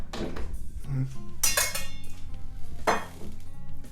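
Flour and sugar are stirred together in a bowl for tart dough, with a utensil clinking and scraping against the bowl in irregular bursts, including a few sharp, bright knocks.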